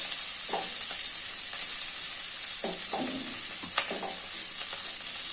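Onions with fenugreek greens, curry leaves and mint fry in oil in a pan, a constant close sizzle broken by several short spatula scrapes and stirs.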